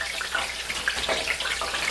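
Frozen regular-cut fries with a little ice on them dropped into hot grease, giving a loud, dense crackling sizzle that fizzes continuously throughout with no talk.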